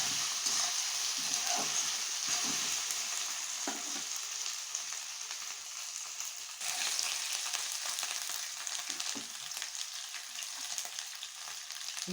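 Onion, garlic and ginger fry in a pan with a steady, moderately quiet sizzle, broken by occasional soft stirring clatters.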